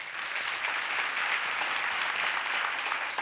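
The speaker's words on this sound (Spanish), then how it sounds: "Aplauda con toda la mano." A church congregation applauds with full hands, a dense, steady wash of clapping that holds at an even level throughout with no talking over it.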